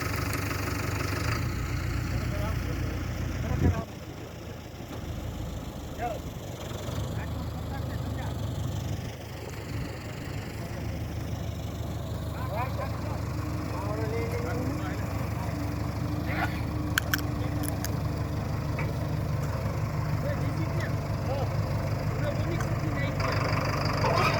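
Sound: tractor engine running, JCB-like tractor

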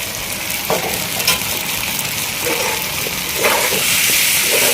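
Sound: stirring spices frying in a pan for kadai chicken

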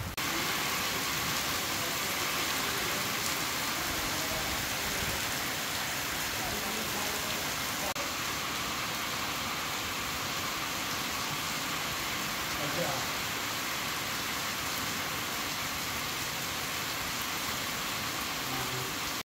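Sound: heavy rain

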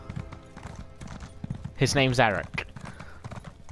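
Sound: horse hooves clip-clop in video game Elder Scrolls

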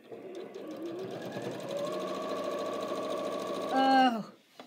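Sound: Janome sewing machine sewing fabric

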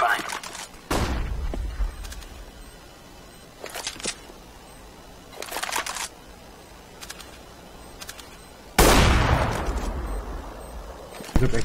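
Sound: flashbang deployed in Counter-Strike video game

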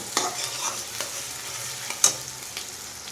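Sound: onions frying and being stirred in pan

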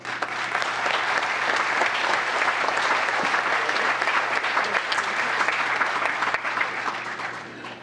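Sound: audience applause at a town council meeting

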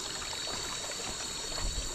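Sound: forest stream water flowing

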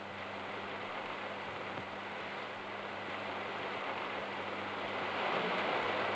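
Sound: sudden rain shower

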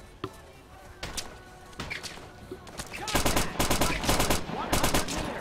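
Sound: gunfire

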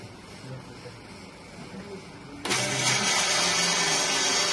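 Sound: filter press lab unit motor starting up

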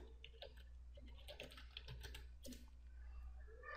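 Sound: typing on a computer keyboard

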